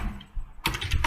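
Fast typing of code on a computer keyboard, a dense run of close, crisp key clicks starting after a short lull and continuing to the end, with no talking.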